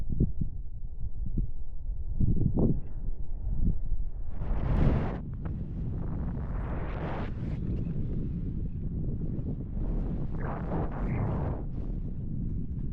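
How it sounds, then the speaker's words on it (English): Strong wind buffeting the microphone on the summit of Quinag in Assynt, a constant low roar with heavier gusts thumping in irregularly over several seconds, no voices. "it's really, really windy"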